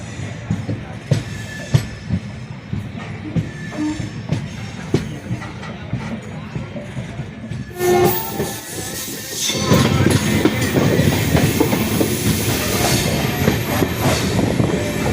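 Amrit Bharat Express train running on rails, heard from on board as a steady rumble with rhythmic wheel clicks that grows louder and rougher partway through, with faint voices now and then.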